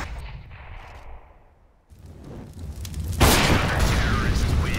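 A grenade explosion in a CS:GO competitive match, a loud burst that swells into a sustained roar and rumble after a quieter stretch with a voice talking.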